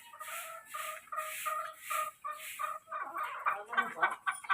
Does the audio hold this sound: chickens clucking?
yes